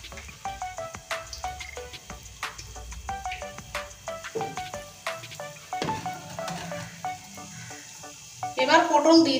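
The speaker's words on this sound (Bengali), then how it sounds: "এইভাবে করে সবগুলো ভেজে নেব।" Pointed gourd pakoras frying in hot oil, a steady crackling sizzle with scattered sharp pops and spits, louder bursts near the end.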